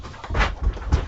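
A pack of dogs playing roughly, with close, loud panting, huffing and whimpering growls in uneven bursts, no talk.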